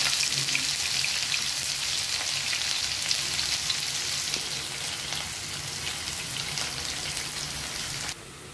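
Onions sizzle in hot oil with cinnamon and black peppercorns, a dense crackling hiss close by that holds steady and then drops to a quieter fry near the end.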